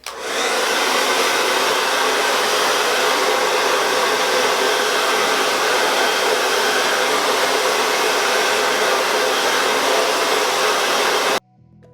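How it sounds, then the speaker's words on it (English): A Speed Freak blow dryer roars steadily and loudly while drying natural hair, a constant close airflow hiss for about eleven seconds before abruptly cutting off, with no talking. "I'm going to start off with my trusty rusty Speed Freak blow dryer"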